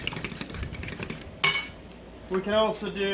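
A utensil stirs the ingredients for a glazed donut omelette in a bowl, making quick rhythmic clinks and scrapes, then a louder clatter, followed by a brief voice near the end.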